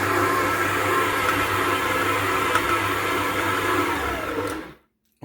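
A stand mixer kneads pizza dough at medium speed, a steady, loud whirring motor drone with a low hum that runs without a break, then cuts off abruptly near the end.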